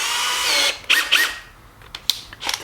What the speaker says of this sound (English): with the drill bit that is roughly the same size as the hole in the plate, we'll put it in our drill